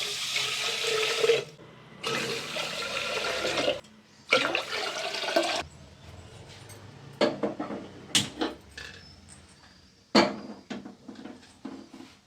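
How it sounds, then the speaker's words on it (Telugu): Tap water runs in a home kitchen sink while rice is washed and children's water bottles are cleaned and filled, with bursts of gushing flow broken by pauses and clinks. "ఈ లోపల నేను పిల్లల వాటర్ బాటిల్స్ అయితే క్లీన్ చేసుకొని వాటర్‌ని అయితే నింపుకుంటున్నాను."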